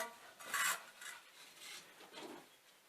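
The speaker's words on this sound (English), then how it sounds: "So Molly's scraping this off and she can see red coming through, which is the old primer" Scraping old oil and paint off the pump of a 90-year-old Lister engine, down to red oxide primer. A tool rasps against the metal in quiet, uneven strokes, with one louder scrape early on and a few short pauses.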